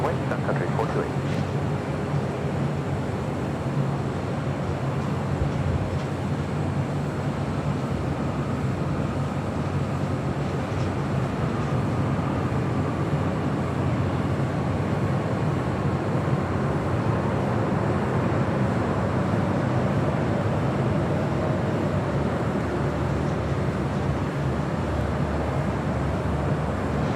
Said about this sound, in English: Sun Country Airlines Flight 428 heading to Minneapolis, 737-800